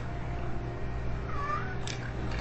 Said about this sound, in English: And there's now a cat on the table.